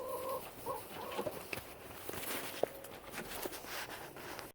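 Hens murmuring and clucking softly inside a backyard coop at night, a few low calls and scattered rustles over quiet background hiss.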